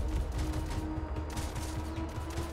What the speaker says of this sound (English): I think all those gunshots are coming underneath me